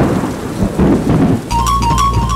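A thunder and rain sound effect plays during a stage comedy act, with a loud rolling rumble over a dense hiss of heavy rain that sharpens into brighter crackling near the end.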